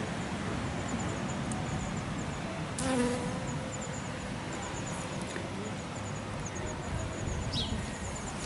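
A pollen-gathering insect buzzes among flowers outdoors, a faint steady drone over a broad airy background with a brief louder pass near the middle.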